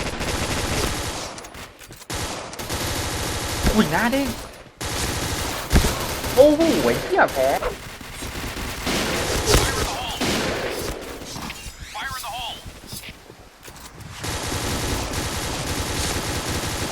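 Bursts of rapid video game gunfire and shots, fired in short volleys, with a person talking excitedly over the action.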